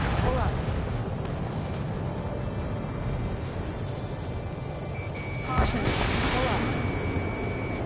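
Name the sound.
missile launch and explosions in Ace Combat 7 video game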